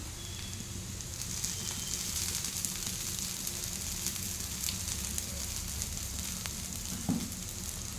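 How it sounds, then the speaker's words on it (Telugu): Okra fries in a pan with gram flour and spices, a dense continuous sizzle with crackling oil pops and an occasional stir or clink, close and steady throughout. "ఇది ఇంకొంచెం ఫ్రై చేయాలి"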